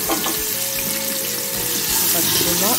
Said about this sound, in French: Je fais revenir les oignons dans l'huile.